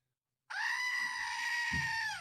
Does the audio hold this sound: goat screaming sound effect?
yes